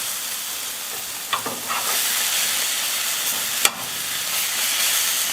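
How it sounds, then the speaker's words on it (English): Philly-style cheese steak being mixed with melting cheese on a hot griddle, a steady close sizzle throughout with a couple of brief spatula scrapes and no talking. "the cheese is starting to melt, so let's mix it all up"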